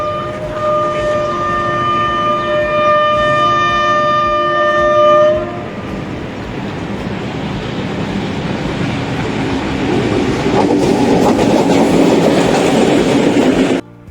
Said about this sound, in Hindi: रहमान बाबा एक्सप्रेस को लोकोमोटिव HBU 20 8056 लीड कर रहा था।